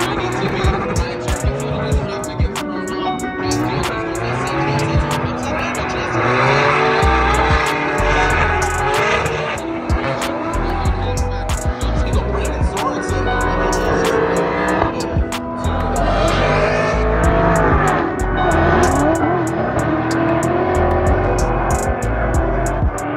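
Drift cars at a Formula Drift event in Utah roar continuously with squealing tires and engine drone, a crowd and commentary voices talking over the loud, sustained motorsport noise.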